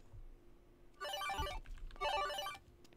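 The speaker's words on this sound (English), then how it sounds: "That's a weird ringtone" A phone ringtone in The Sims 3 plays as two short bursts of bright, warbling ringing about a second apart, fairly quiet against a hushed background.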